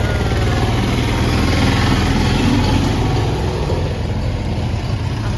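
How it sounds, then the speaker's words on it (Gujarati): A tractor engine approaches along a sunny village roadside, a loud, steady motor drone and rumble filling the whole stretch without pause. "ટ્રેક્ટર આવે ટ્રેક્ટર"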